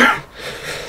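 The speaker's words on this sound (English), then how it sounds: "Just a random cough." A single short, breathy cough bursts out close up, then fades into quiet breathing.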